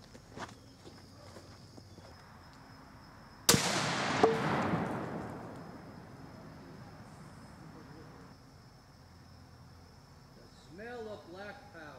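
A muzzleloader loaded with black powder and a 209 primer fires a 250 grain Hornady SST sabot bullet: one sharp loud boom whose echo decays over several seconds outdoors, with quiet talk before and after.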